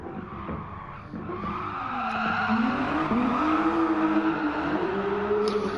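A race car drifts around the Red Bull Ring in the GT Sport video game, its engine note climbing and wavering under a sustained, loud tire squeal that builds and holds throughout.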